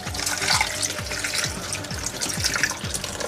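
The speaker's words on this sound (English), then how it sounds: "So of course you can see this is very, very thick. So I'll just add water." Water pouring from a tap into thick coconut milk during African home cooking, a steady close splashing stream with a rhythmic gurgle as the vessel fills.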